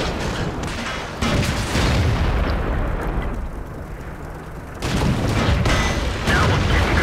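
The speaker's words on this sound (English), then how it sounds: "My ammunition caught fire. I exploded." Tank ammunition exploding in World of Tanks, a heavy rumbling blast that rolls on, briefly fades, then another loud boom surges back, close and booming.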